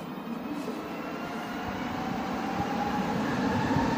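A Montreal metro subway train runs underground with a steady rumbling roar, rails and wheels building slightly in loudness as the car moves, with no talk heard.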